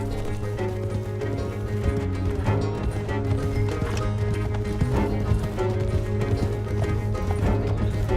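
Galloping horses pull a stagecoach in Red Dead Redemption 2, their rapid, loud clip-clop hoofbeats driving on steadily with jangling harness and occasional whinnies, while voices shout over the pounding rhythm.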